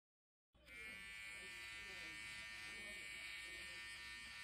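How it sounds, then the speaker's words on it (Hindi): A VGR electric hair trimmer set to size 3 switches on after a brief silence and runs with a steady, even, close-up buzz to the end. "अब मैं आपको ट्रिमिंग टेस्ट करके दिखाने जा रहा हूँ"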